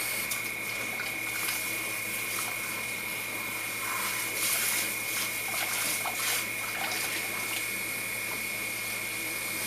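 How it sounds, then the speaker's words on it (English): A spray nozzle rinses water through a freshly washed wig in a sink: a steady, hissing water spray runs continuously at moderate level, with a faint constant hum underneath. "Go ahead and spray the excess off."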